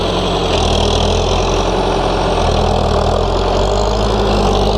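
Farm tractor engine running nearby in central Portugal, a steady low throbbing idle with a continuous mechanical rumble and no talk.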